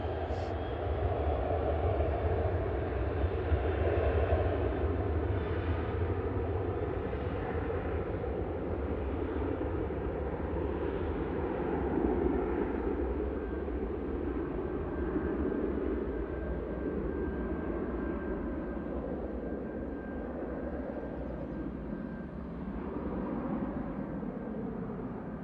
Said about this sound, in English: LNNIQ, a 12-year-old 737-800, is operating flight